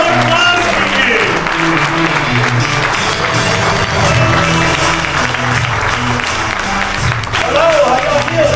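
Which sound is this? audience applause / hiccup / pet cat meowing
audience applause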